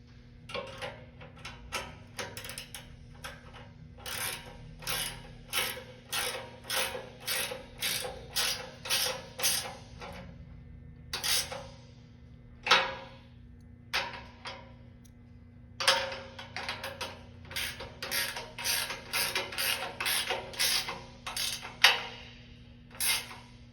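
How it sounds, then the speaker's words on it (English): Bolts on a 4th-gen Toyota 4Runner front bumper tightened with a hand ratchet: close, crisp runs of rapid pawl clicks in repeated bursts, with short pauses between strokes and no talking. "and then we'll tighten down our bolts"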